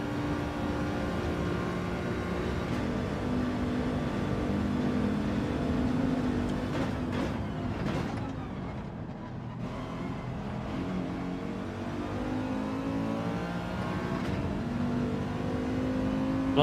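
A Mercedes SLS race car in Gran Turismo 7 drives a lap, its engine whining and droning steadily as it rises and falls through gear changes, moderately loud with no voices over it.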